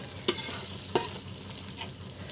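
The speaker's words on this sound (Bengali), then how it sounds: "এখন ভালোভাবে কষিয়ে নেব।" Spices cooking down in a pan with green chili paste and a little chili powder: two sharp spatula scrapes early on, then a softer third stir over a faint, low sizzle, with no talking.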